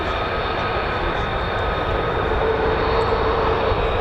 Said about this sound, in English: F-22s have started up. I'm now getting used to their sound.